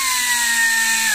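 Parkside air ratchet driving a Torx bolt tight, a loud steady pneumatic whir with high whistling tones and a faint falling pitch, heard up close and alone.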